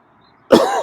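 A person coughs once, loud and close, with a raspy burst after a near-silent moment and a short second catch at the end.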